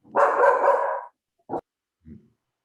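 A dog barks once with a long, loud, close bark, followed by a short yip and a faint whimper, during a public meeting.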